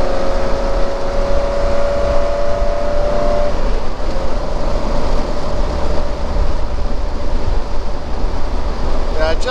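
A 1967 Triumph Vitesse engine pulls hard as it accelerates along an open country road, a loud and steady drone with a sustained tone that holds for several seconds before settling into broadband road roar.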